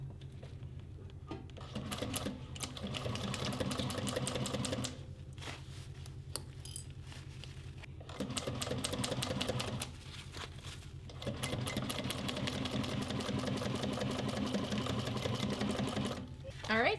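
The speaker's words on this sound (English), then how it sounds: "I'm gonna sew along this edge at a 1/4 inch seam allowance." A sewing machine stitches a quilting cotton seam on a leather boxy bag. It runs in long, steady rattling stretches broken by short pauses, close and fairly quiet.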